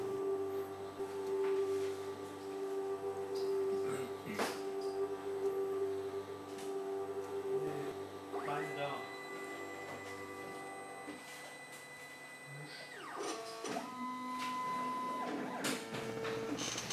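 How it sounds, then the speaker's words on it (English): A grinding and polishing machine works a micro section sample for cross-section analysis, giving a steady mechanical hum with tonal whine, with a few brief clunks and rising whirs partway through. "After completing fine grinding, the machine will continue with polishing."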